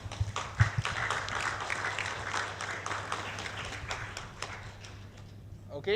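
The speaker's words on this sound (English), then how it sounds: "So again, let's give applause to all of you all before we start the speakers." Applause for the audience at a digital transformation event for rural, village and maritime areas: scattered, uneven hand claps from a modest crowd, fading gradually, with a low steady hum and some speech beneath.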